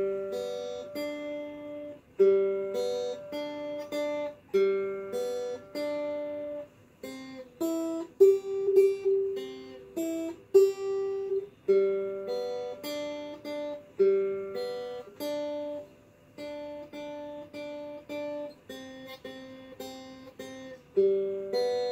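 Guitar plays a short melodic exercise piece from a beginner method book, in a 1950s style, with clear plucked notes in a steady rhythm, moderately loud and alone without talk.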